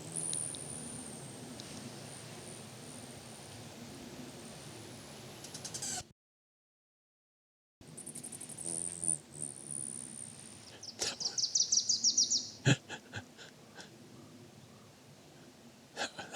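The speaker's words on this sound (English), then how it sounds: "That was a Rufus hummingbird doing his dive" A male Rufous hummingbird performing his courtship dive on a Vancouver Island hike, a sharp whistling buzz ending in rapid chirpy pulses, fairly faint against a quiet outdoor background, with a brief gap partway.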